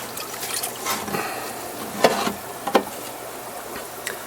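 Water is poured from a container into a discus aquarium tank, giving a soft continuous splashing trickle with a few sharper sloshes, moderately close, with no talking.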